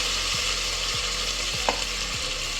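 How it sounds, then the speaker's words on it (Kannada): Green peas frying in a pan for a Kannada batani rice bath, with a steady loud sizzle and a spoon scraping the pan about four times in an even rhythm. "ಚೆನ್ನಾಗಿ ಫ್ರೈ ಮಾಡ್ಕೊಳ್ಳಿ"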